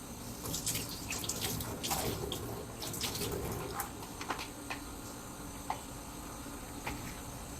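Tap water runs steadily into a sink while hands are washed before a vital-signs check, with soft splashes and drips shifting over the continuous flow; no talking.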